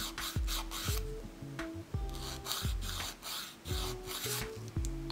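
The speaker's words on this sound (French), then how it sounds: "Je termine en raccourcissant le bord libre avec une lime fine en émeri." A fine emery file rasps across the free edge of a gel-covered fingernail in quick, regular back-and-forth strokes, close and fairly soft, about four or five passes per second.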